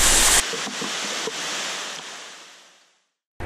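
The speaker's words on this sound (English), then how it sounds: "and the coolest waterfall ever." A waterfall inside a cenote near Cancun, under stalactites, gives a loud rushing wash of water that holds steady, then fades away into silence.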